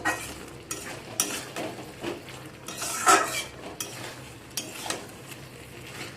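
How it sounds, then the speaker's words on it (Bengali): Fried pointed gourd being stirred with spices in a pan, repeated scraping and clinking strokes of a spatula in an irregular rhythm over a faint sizzle, close and without talk. "1 মিনিট নাড়াচাড়া করে ভালো করে একটু সব কিছুকে মিশিয়ে নেব"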